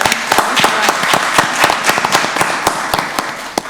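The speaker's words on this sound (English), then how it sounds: "Let's give them a round of applause." Audience applause at a Rockdale County Board of Commissioners morning meeting, a dense burst of many hands clapping steadily for nearly four seconds, loud and close with a few sharper individual claps standing out.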